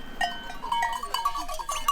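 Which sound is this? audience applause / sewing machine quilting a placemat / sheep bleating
sheep bleating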